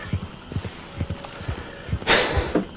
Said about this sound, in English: the horse goes in the completely opposite direction